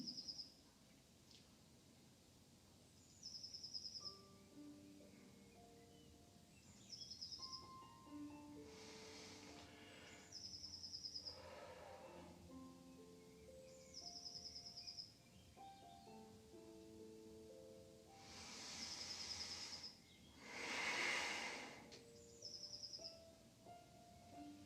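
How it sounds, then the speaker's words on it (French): Small birds chirp outdoors in short, high, repeated calls that come and go throughout, fairly faint and set against soft melodic background music, with no talking. "vous écoutez les petits oiseaux."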